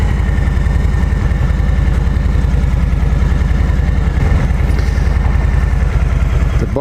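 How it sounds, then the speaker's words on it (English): A 2018 Harley-Davidson Low Rider's V-twin engine idling close by, a steady, loud, low loping rumble with even pulses throughout and no talk. "getting ready to jump on the 2018 Low Rider"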